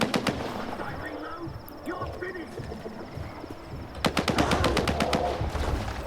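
Gunfire from a 9mm handgun in the video game S.T.A.L.K.E.R. 2, heard as a rapid string of sharp shots near the end, preceded by quieter scattered game sounds and a steady high tone.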